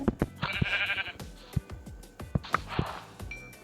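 Sheep in the video game Minecraft give several short, wavering bleats amid quick in-game clicks and thumps, with a muted voice faintly underneath.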